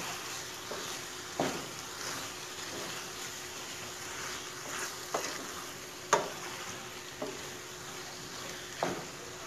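Turnip sabzi cooks in a hot pan with a soft, steady sizzle, punctuated every second or two by the scrape and clack of a spoon stirring the vegetables.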